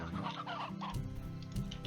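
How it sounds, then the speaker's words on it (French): A chicken in the video game Slime Rancher clucks in a few quick, close bursts over a steady game music background. "Un poulet."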